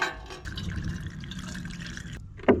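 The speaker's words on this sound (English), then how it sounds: "I'm going to wash this." An old lantern being washed with water, a continuous close splashing and trickling of running water that cuts off near the end before a short sharp knock.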